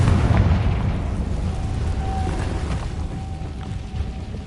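Confringo blasting spell exploding in Hogwarts Legacy, a loud boom at the start that decays into a rumbling, noisy tail lasting several seconds, with a faint tonal whine in the middle.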